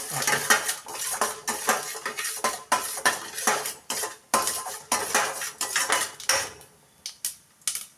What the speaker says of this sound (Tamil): இப்போ கடுகு பொரிய ஆரம்பிச்சிச்சு